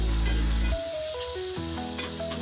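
Frying food crackling and sizzling in a pan while a pickle is cooked, a loud hiss at first that quickly settles into a softer sizzle with faint pops, backed by a few sustained musical tones.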